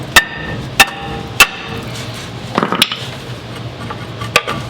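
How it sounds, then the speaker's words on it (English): A hammer strikes a worn brake rotor on a Toyota Tundra truck, giving about six sharp metallic clangs at irregular intervals with faint clinks in between, loud and close. "A couple of good smacks and that'll come off."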